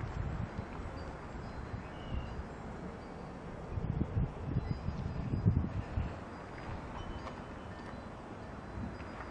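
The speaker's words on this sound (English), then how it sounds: "Oh, it's windy." Wind gusting outdoors on a bright sunny day by an open garage, a steady broadband rush with stronger buffeting gusts in the middle, heard on its own with no talking.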